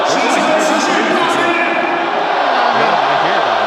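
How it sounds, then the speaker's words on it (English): Crowd at a Taoyuan Pilots versus Formosa Taishin Dreamers basketball game reacting loudly and continuously throughout, a dense roar of many voices with scattered whoops and shouts filling the arena, mixed with indistinct chatter. "You can hear from the crowd"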